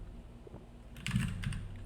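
Computer keyboard keys clatter in quick, irregular bursts while someone codes a Node and MongoDB API, the clicks close and crisp, starting softly and growing busier in the second half with no talking.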